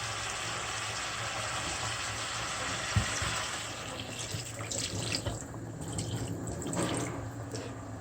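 Water poured into a pan of sautéed zucchini and rice, a continuous close splashing gush that runs for several seconds, then gives way to softer bubbling and dripping.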